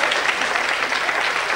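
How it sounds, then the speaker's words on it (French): Studio audience of a French television game show applauding, a dense, continuous wash of clapping that stays loud and even for the whole moment. "on peut applaudir"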